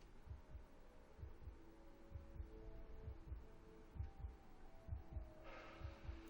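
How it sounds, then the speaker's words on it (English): A steady heartbeat pulses in the Immortality video game, regular low thumps repeating alone over a faint background hum, with no talking. "I hear a heartbeat."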